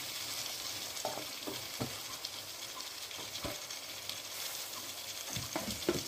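Carrots, beans and other vegetables cook in a pot for vegetable biryani, giving a low continuous sizzle and hiss with occasional soft stirring knocks, quiet and without talking.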